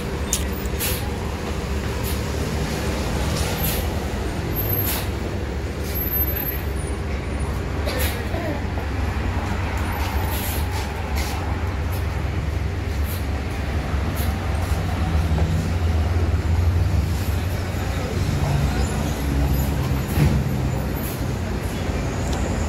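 A bus pulling away from a terminal on its run toward Jogja and Solo, with a steady low engine rumble and continuous traffic noise throughout, and faint bursts that may be air brakes.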